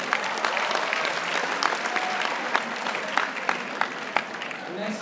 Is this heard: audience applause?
yes